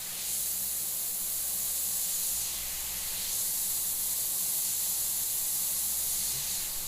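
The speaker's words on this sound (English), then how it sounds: "That same isopropyl alcohol inside an airbrush." An airbrush sprays isopropyl alcohol in a close, steady hiss, with a brief dip near the middle. The spray is used for zombie drool effects, and no one speaks.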